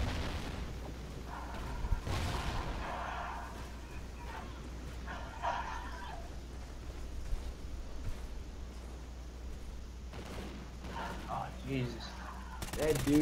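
Grenade launcher blasts and gunfire in the online multiplayer shooter Call of Duty Ghosts, with sharp bursts at scattered moments under ongoing game noise and a voice talking over it.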